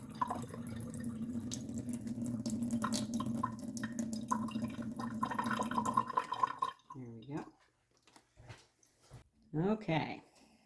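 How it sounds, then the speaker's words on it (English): Excess water draining out of a soaked seed tray, a steady trickling and dripping under a low hum for about six seconds, then sparse drips and a person speaking briefly. "And I just drain out the excess water out of the tray."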